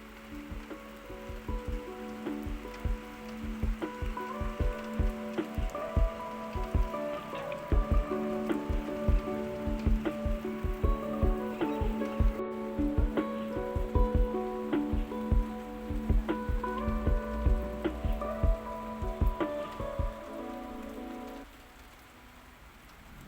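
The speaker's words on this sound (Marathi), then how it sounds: "हळूहळू पावसालाही सुरुवात झालेली आहे आणि वातावरणही खूप छान दिसत आहे." Summer rain falling outside in a yard, a dense patter of close drops striking surfaces with a steady rhythm that fades near the end, no voices over it.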